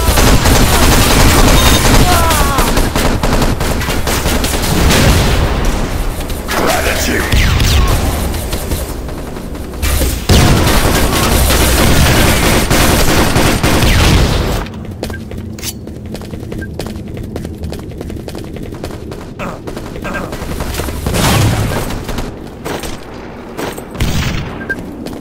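A grenade blast and continuous gunfire fill an Enemy Territory Quake Wars 12 vs 12 match on the Salvage map, with loud dense volleys and booms for about fifteen seconds, then quieter scattered shots.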